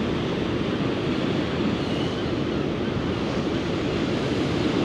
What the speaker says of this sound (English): see waves as big and as foaming as this